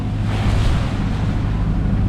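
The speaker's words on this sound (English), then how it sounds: "We are passing through the waves." A 28 ft sailboat under motor crosses from Denmark to Sweden in October, pushing through sea waves with a steady rush of wind and water over the close, constant roar of the mic.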